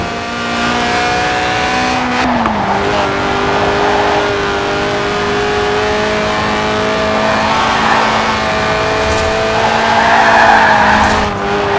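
A 190-horsepower 1.8-litre race car engine screams at high, sustained revs near 8,000 RPM in Forza Horizon 4 while tires squeal and skid through corners, loud and continuous with no voices.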